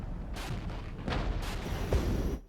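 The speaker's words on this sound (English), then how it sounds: "Lots of artillery coming in right now." Artillery fire in a Cold War video game set in 1989, several booming impacts and crackling bursts in close succession over a rumbling bed, moderately loud and without voices.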